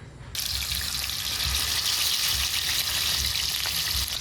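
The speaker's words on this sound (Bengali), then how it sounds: "এটা এখন আমি এমনি সাদা তেলে ভেজে দেবো" Chicken pakoras deep-frying in plenty of white oil, a loud, dense, even sizzle that starts abruptly and holds steady up close.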